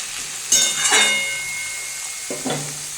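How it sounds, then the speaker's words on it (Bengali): Beetroot frying in a pan for a beet, carrot and pea curry, with two bursts of sizzling as the pieces are stirred, a bright hiss fading between them, close and fairly loud with no talking. "আমি বিটগুলো দিয়ে দিয়েছি আমি এইটা দিয়ে ভালো করে একটু ভেজে নেব"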